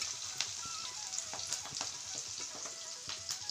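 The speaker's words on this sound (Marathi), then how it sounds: "आता हे कांद्याच्या फोडी टाकतो." Onion pieces fry in a pan with a faint, continuous crackling sizzle and scattered small pops and spatters, no voices over it.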